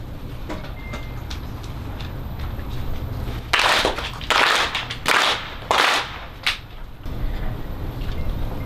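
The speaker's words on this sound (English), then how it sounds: "Please join me as we open our ceremony with 4 solemn claps." At a grand opening ceremony for Heinlenville Park in San Jose's Japantown, four loud, solemn, evenly spaced ceremonial claps ring out outdoors, each a sharp burst with a short trailing decay, framed by quiet ambient background.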